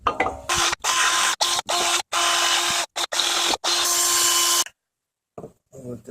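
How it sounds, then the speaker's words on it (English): A power tool with a wire brush whirs in repeated short bursts against Lexus ES300 brake parts, loud and close, stopping and starting several times before falling quiet with a few faint clanks. "See if we wire brush and clean this up a little bit"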